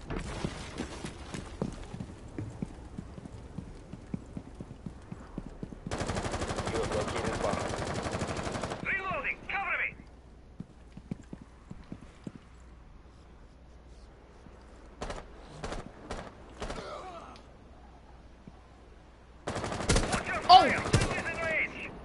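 Rapid bursts of gunfire from the video game Rainbow Six Siege, loud automatic fire in a dense block plus scattered shots, mixed with clattering in-game movement and footsteps.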